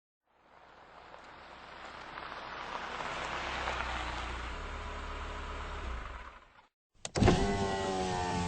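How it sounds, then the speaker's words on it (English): A car in the Where in the World is Carmen Sandiego's Treasures of Knowledge game pulls up in wintry Quebec City, a long swelling mechanical hum that rises, holds, then cuts off, followed by a brief sharp tonal sound. "I hear a car coming."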